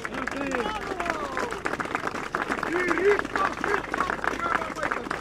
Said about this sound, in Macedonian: Аплауз уште еднаш.